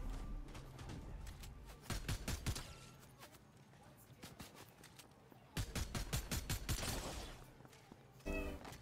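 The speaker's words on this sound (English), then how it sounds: "Shots." Gunfire in the Fortnite battle royale video game, with bursts of sharp repeated shots in two clusters over busy game sound and background talk.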